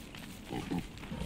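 Pigs in the video game Don't Starve give a couple of low, faint grunts over a steady game ambience, with no voices.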